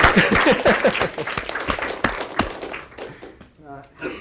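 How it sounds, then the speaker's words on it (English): Scattered applause from a lecture audience, a few distinct claps mixed with nearby talking and thumps, then thinning out toward the end. "you can clap just for that"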